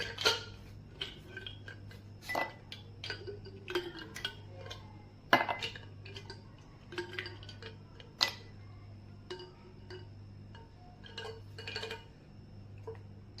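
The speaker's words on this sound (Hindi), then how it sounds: "अब हम इसमें बर्फ़ डालेंगे।" Ice cubes dropped one after another into a glass while making cafe-style iced coffee, giving scattered light clinks and knocks over a steady low hum, with no talking.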